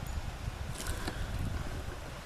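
Wind blows outdoors during a wood gas stove boil test, a faint, steady rushing across the microphone with small gusting swells and no talk.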